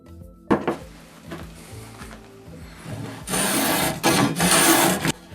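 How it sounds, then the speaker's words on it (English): Spokeshave shaving the corner of a wooden longbow stave clamped to a workbench: a series of close, scraping wooden strokes, short and irregular at first, then longer and louder rasping passes. "I've started work on the corner of that bow using the spokeshave"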